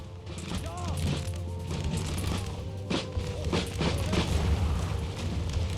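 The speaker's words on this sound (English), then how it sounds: "Artillery rounds coming in." Artillery rounds landing during an Empire: Total War battle: repeated dull booms and thuds at irregular intervals over a steady low battlefield rumble, mid-distance, with faint voices.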